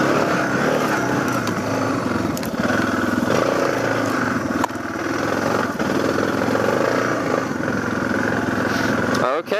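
A Suzuki DR650 motorcycle engine drones loudly and steadily throughout an off-road hill climb, with the rumble holding at a constant level with no talk over it.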